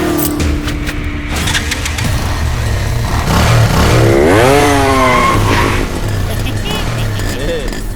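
An antique motorcycle engine revs with a rising, whining pitch, loud and close, mixed under talking voices and background noise in a dubbed action-film scene.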